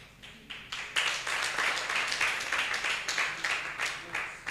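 A crowd applauds students at a university bootcamp pitch day, a dense, steady wash of clapping that swells after the first second and carries on at a lively, even level with bursts of cheering mixed in.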